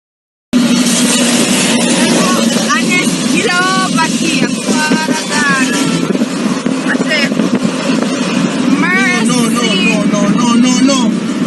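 A car passes on the road at Flat Bridge with a steady roar of engine and tyre noise, while people talk and call out loudly over it throughout.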